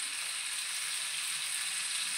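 Chicken pieces shallow-frying in butter in a pan for a butter garlic chicken dish, a steady, even hiss and crackle of sizzling fat held throughout, close and moderately loud with no talk.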